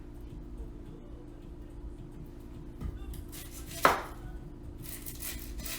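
A knife comes down on a white onion on a cutting board with one sharp, close chop standing out against a low steady kitchen hum and faint rustling.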